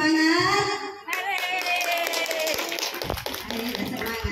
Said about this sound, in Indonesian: Bisa sekali lagi berikan tepuk tangan yang paling semangat.